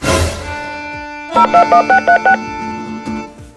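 Telephone keypad being dialed: a burst of noise, then six quick evenly spaced beeps in a row, followed by a faint tone.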